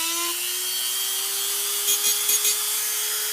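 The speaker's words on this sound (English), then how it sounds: "using my Dremel." A Dremel rotary tool grinds at an accordion reed on a tuning table, giving a steady high whine with a constant hum beneath and a few brief scraping bursts partway through.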